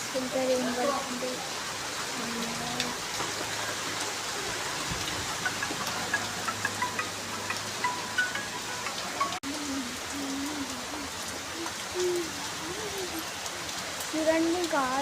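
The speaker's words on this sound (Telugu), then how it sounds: "చూడండి గాయస్ ఎంత రెయిన్ పడుతుంది." Heavy rain falls steadily on surfaces outdoors, making a dense, continuous patter with scattered louder drops. The rain stays constant for the whole stretch, while a voice talks faintly underneath at times.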